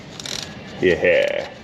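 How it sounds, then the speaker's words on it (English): A ratchet wrench clicks briefly during a radiator hose job on a Duramax 6.6, a short burst of metallic ratcheting close up, with a quick spoken word just before it. "Use the screwdriver to hold against the ratchet."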